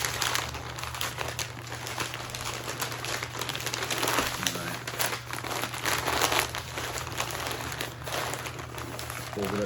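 Brisket is folded up tightly in wrap, giving a steady run of close crinkling and rustling with small crackles and no talk over it.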